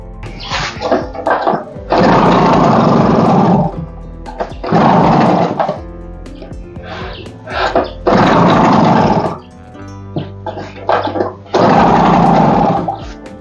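An old Chinese two-stroke generator being kickstarted: repeated loud, rough bursts of a few seconds each, separated by brief pauses, close up with no talking.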